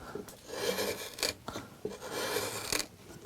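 A wood chisel slices through wood during carving, giving soft scraping and rasping strokes with a few sharper cuts, close and fairly quiet, with no talking.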